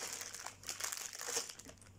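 Plastic packaging for a Lepin brick set crinkles as it is opened by hand, with irregular close crackles and rustles and no speech.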